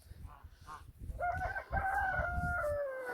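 A rooster crows loudly close by inside a tent shared by chickens and geese, a long drawn-out call following softer clucking and rustling from chickens.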